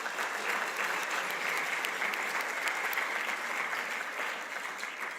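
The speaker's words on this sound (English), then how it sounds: "Please give yourselves a round of applause." Audience applause fills a room at a political event, a steady, dense patter of clapping that holds throughout and tapers slightly at the end, with no speech over it.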